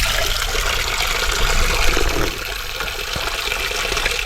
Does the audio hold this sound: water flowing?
yes